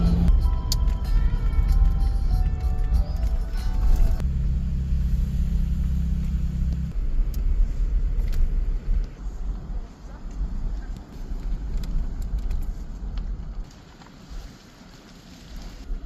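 A vehicle backing a teardrop trailer into a dead-end campsite at a Northern Arizona campground on a cold day: a steady low engine rumble close by, with wind noise and a brief shift in the engine's drone partway through.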